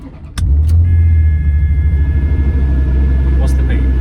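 A Ferrari 355 engine fires up with a sharp start burst, then settles into a loud, steady low rumble that runs close-up for several seconds, with faint clicks on top.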